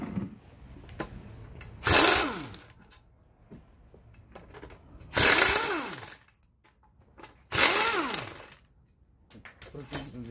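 Compressed air blasts cleaning disassembled motorcycle engine parts during a SYM Voyager GTS overhaul, three loud hissing bursts about two seconds each, spaced by quieter workshop noise.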